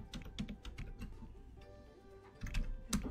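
Quick, irregular clicks of keys on a computer keyboard come in small bursts, with a short pause before a denser flurry near the end. The typing is close and moderately quiet, and no one speaks over it.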